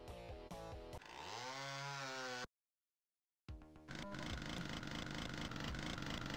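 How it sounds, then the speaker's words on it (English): Chainsaw in the classic video game Doom revving up in a rising whine, then briefly cutting to silence before grinding on with a dense, buzzing roar, all at a fairly low level. "There's something about the chainsaw that's just a bit more fun."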